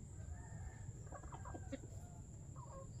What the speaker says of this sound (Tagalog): wala akong magagawa kundi magpatuka ng manok